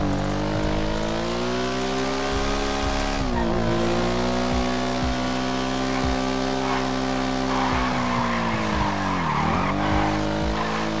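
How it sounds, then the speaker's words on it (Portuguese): Motorcycle tyres skid in the GTA RP video game, with a steady engine drone and repeated sliding squeals. A sweeping pitch dip near the end suggests the bike braking or turning hard. The sound is loud and continuous throughout. "Ixi, a moto tá derrapando, né?"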